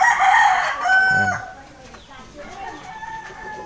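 A rooster crows loudly near the start, with hens clucking around it and a faint voice in the background.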